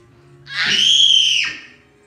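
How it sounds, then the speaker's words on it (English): A young child lets out one loud, sustained high-pitched scream lasting about a second, rising sharply and cutting off cleanly, close to the microphone in an otherwise quiet room. "are you screaming like Marv?"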